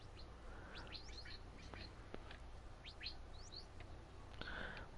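Birds in a Minecraft bird sanctuary chirp and tweet in quick, scattered bright calls over a steady low ambient hum, several overlapping near and mid-distance with no voices.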